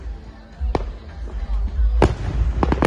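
Fireworks burst at the Hamilton hot air balloon festival in New Zealand, several sharp loud cracks and booms over a low rumbling crowd background, with people talking nearby.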